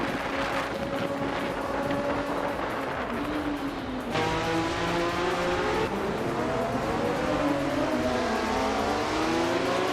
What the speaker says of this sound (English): Amy is driving a 1983 Lancia LC1 Dud.